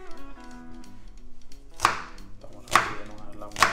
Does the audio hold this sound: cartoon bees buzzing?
no